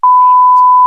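A single steady electronic beep, loud and continuous for nearly a second, cutting in abruptly and stopping sharply like a censor tone.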